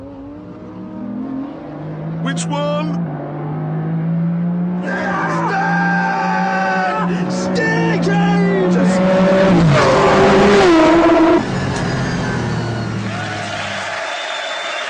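Race cars approach with engines revving and tires skidding, a loud, steadily building mechanical roar that rises and peaks with squealing before tailing off, while people speak over it.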